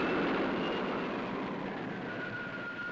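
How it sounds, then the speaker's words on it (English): Rocket takeoff effect from a 1962 TV series, a loud broad roaring rush with a faint high whine, steady and slowly easing off in level. "Stand by for rocket takeoff."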